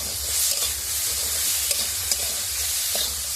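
Fish roe sizzles in a pan with turmeric added and is stirred, giving a steady hiss broken by a few scraping strokes and no talk.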